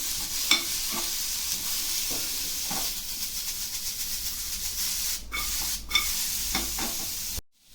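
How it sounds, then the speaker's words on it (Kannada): Chicken sukka masala fries in a pan until golden brown, a constant close sizzle broken by repeated scraping strokes of a spatula, with no talk. "ಇದನ್ನು ಚೆನ್ನಾಗಿ ಸ್ವಲ್ಪ ಕೆಂಪಗಾಗೋವರೆಗೂ, ಗೋಲ್ಡನ್ ಬ್ರೌನ್ ಬರೋವರೆಗೂ ಫ್ರೈ ಮಾಡ್ತಾ ಇರಿ."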